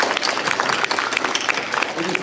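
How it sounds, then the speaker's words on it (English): An audience applauds after a live performance at a cultural event, dense steady clapping from a crowd that fills the space throughout. "So let's give Lavanya Acharya a round of applause."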